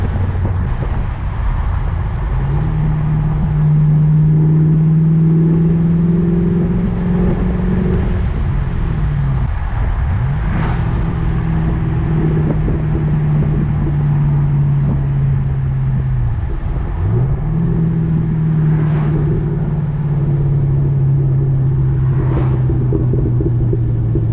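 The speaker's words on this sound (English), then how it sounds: "This car freaking pops so much, I love it." A loud, steady engine rumble from a modified 450 hp fifth-generation Chevrolet Camaro SS, with a shifting drone, broken by a few sharp exhaust pops near the end.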